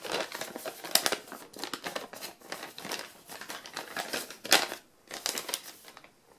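Origami paper crinkles and rustles as an edge is folded to meet another edge and creased, a close run of crisp, dry bursts with brief pauses between them, moderately loud, no voices.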